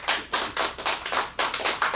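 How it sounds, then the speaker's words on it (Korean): Hands clap together in an audience during a Korean Christian lecture, rapid and close, in steady bursts with brief dips and no talking over them. "박수를 좀 쳐주시기 바랍니다"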